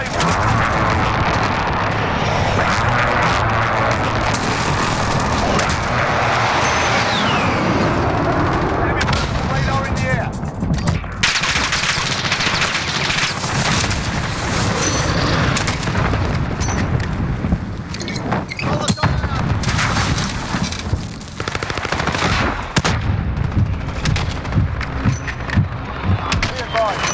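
Gunfire and airstrike explosions from the 2019 Call of Duty Modern Warfare game, loud and continuous, with repeated sharp shots and deep blasts and radio-style voices talking over the battle throughout.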